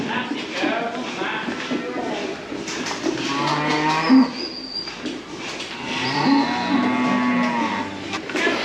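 Cows moo repeatedly, loud and close, in a barn, their low drawn-out calls overlapping with quieter background voices and shuffling.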